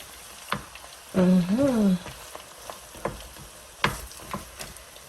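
Tortilla de patatas sizzles in a pan with a soft continuous frying hiss, broken by scattered ticks and scrapes, while a voice briefly cuts in.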